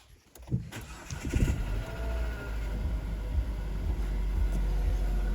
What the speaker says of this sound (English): Oh, let's start the engine.